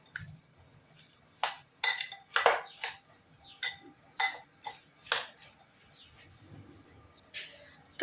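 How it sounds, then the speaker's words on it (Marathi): Vegetable sandwich filling being mixed in a bowl, a spoon clinking and scraping against the bowl in a series of short, close, irregular knocks with quiet pauses between them. "तर याला आपण आता मिक्स करून घेऊया."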